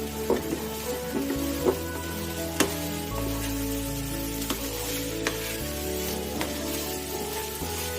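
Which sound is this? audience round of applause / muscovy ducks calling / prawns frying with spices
prawns frying with spices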